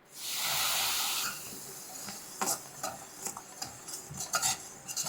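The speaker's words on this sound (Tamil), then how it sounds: "அப்படியே கை விடாத கலந்துக்கிட்டே வாங்க" Gram flour cooking with ghee and oil for Mysore pak gives off a burst of hissing sizzle, followed by quieter scraping and knocking of a spoon stirring the mixture in the pan.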